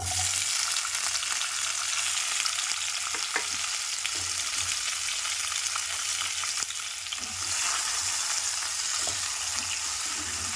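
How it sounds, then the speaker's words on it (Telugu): Tomato and onion pieces frying in a pan for a lotus seed masala curry, a constant bright sizzle close by with scattered stirring taps and scrapes, uninterrupted and without speech. "ఇప్పుడు వీటిని మనం దీంట్లో వేసి ఫ్రై చేసుకుందాం"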